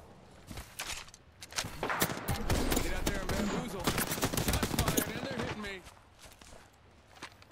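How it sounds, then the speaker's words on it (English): Rapid automatic gunfire from Apex Legends weapons, likely a Spitfire light machine gun, crackles in dense bursts through the middle of the fight, with footsteps and in-game voice callouts mixed in. "Opening fire."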